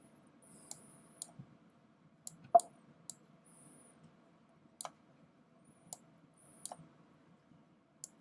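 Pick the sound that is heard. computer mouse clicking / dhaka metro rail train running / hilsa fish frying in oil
computer mouse clicking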